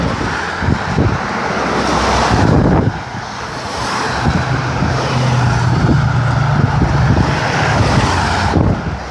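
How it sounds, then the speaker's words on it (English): Norfolk Southern freight train with five locomotives and about 90 cars passing along the Susquehanna River, a loud continuous rumble and rush with wind buffeting the microphone, no talk. "There's 90 cars on that train, and no caboose"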